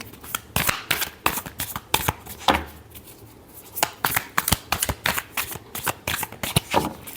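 Tarot cards shuffled by hand in a run of crisp riffling bursts that come fast and close, break off briefly near the middle, then pick up again in quick repeated flurries.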